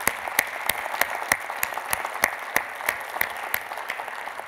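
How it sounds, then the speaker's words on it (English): Audience applause for event sponsors at a closing session, a steady, moderately loud wash of clapping with distinct sharp claps rising above it throughout, no voices on top. "So a round of applause for our sponsors."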